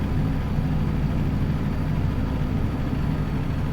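A Western Star 49X truck engine in American Truck Simulator labors up a long hill in a low gear, a loud, steady low drone held near 1700 rpm.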